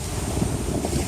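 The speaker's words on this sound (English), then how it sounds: "The wind has changed." Strong wind gusts across Kentucky Lake, buffeting the microphone with a loud rumbling roar over choppy water, continuous through the short stretch with no voices.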